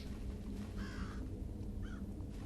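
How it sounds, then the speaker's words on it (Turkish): Crows caw in the stealth video game Thief: two harsh calls, the first longer, set against a steady low ambient drone with no speech. "Şu kargalar yüzünden zor."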